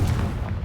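A single deep, rumbling blast from the Confringo fire spell in the video game Hogwarts Legacy, booming loudly and briefly with a heavy low-end roar.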